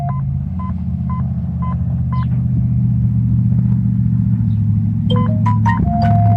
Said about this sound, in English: you'll hear his phone go off when I save it